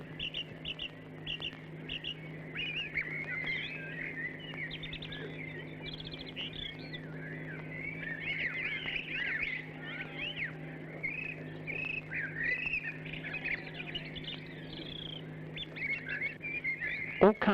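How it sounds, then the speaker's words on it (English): Birds chirping and calling through a wood where herons nest, a steady mix of small tweets and twittering at moderate distance over a low constant hum, with no speech. "All kinds of birds inhabit the wood, and their numbers and varieties have been recorded for over 20 years."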